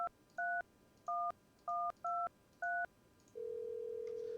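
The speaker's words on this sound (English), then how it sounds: "Let's call the neighbor." A telephone in the video game No I'm not a Human dials a number as six quick two-tone keypad beeps in an uneven rhythm, followed by a steady ringing tone that holds to the end, clear and without speech.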